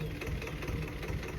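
A tractor engine idles with a steady, knocking mid-range chug, faint and fairly distant, with no talk over it.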